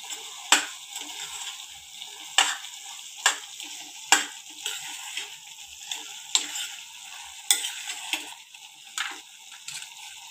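Pasta masala is stirred into a mixture in a pan while making chicken pasta: a steady sizzle with regular sharp spoon scrapes and taps against the pan, close by, with no voices.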